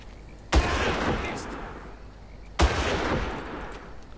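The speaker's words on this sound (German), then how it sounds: "Egal, waren zwei Schuss, die ich gebraucht habe, aber der Typ ist hinüber." Two sharp gunshots in the video game Far Cry 1, about two seconds apart, each a loud crack with a lingering reverberant tail fading into quiet.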